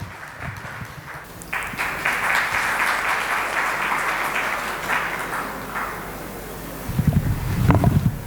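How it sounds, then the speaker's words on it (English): Audience applause at a members' event after a memento presentation on stage, a broad sustained wash of clapping at moderate distance that swells mid-way, with some louder bumps and handling noise near the end. "Can we have a huge round of applause for Mr. Sebi?"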